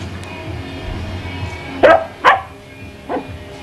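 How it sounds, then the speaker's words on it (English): A dog barks on a home patio: three sharp barks around the middle and end, near and loud, over a quiet background murmur with no speech. "And there's my doggy."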